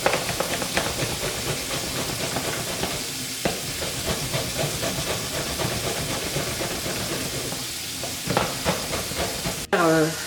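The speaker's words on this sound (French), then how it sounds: "mes épices sont en train de se bouillir" Spices bubbling and sizzling in a cooking pot while Congolese saka-saka is prepared, a dense steady frying hiss with occasional stirring clicks and a sharp clatter near the end.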